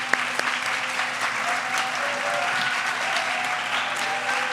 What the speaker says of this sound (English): Everyone, let's give it up for your Fall 2025 finalists.